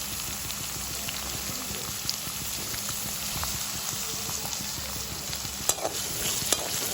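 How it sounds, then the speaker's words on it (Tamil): Curry leaves, ginger and garlic sautéing in a pan for a traditional mutton curry give a steady, close sizzle and crackle with occasional sharp pops and stirring scrapes, heard alone with no voices. "வடிவாக வதக்கி எடுத்துக்கொள்ளுவோம்."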